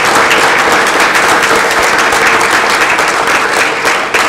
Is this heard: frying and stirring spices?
no